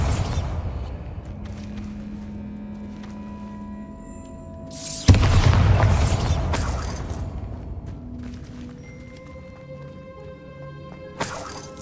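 Bombarda blasting spell in Hogwarts Legacy, a sharp shattering explosion partway through with rumbling debris trailing off, then a smaller crack near the end over quiet ambient game sound.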